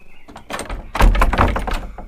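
A door in an old lodge building is rattled and pushed, with a heavy thunk and a cluster of knocks and clatters close by, with no talk.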